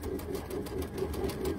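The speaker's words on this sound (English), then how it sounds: "we're going to sew like that down this side" A sewing machine chain-piecing quilt fabric for flying geese blocks runs close by, a rapid, even mechanical chatter of stitches throughout the short stretch with no talk.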